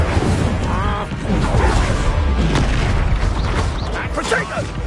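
In Hogwarts Legacy, the Incendio fire spell goes off in a dense barrage of booming, crackling blasts and impacts, loud and continuous, with combat effects and voices mixed in.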